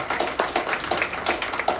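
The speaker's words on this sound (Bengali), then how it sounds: "ওর জন্য একটা জোরে হাততালি হয়েছে" Audience clapping at the Raktabeej 2 trailer launch, a fairly sparse, steady patter of hands from a modest crowd, brief and without voices.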